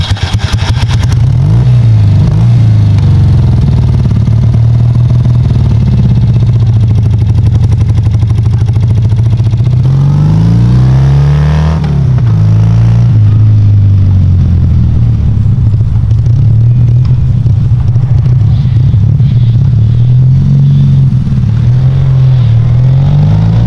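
BMW /5 Series motorcycle engine running loud and close, a steady low burble with repeated throttle blips and revs rising and falling, no talk over it.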